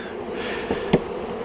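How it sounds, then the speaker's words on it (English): Steady, close buzzing of many honeybees in flight at a swarm trap fills the clip without pause, with a couple of brief louder clicks along the way. "the bees are flying like crazy"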